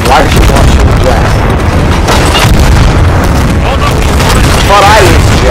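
Cannon fire in the pirate video game Sea of Thieves: loud, distorted booms and blasts crowd the whole clip, mixed with voices and chaotic game noise, the sound pushed to clipping throughout.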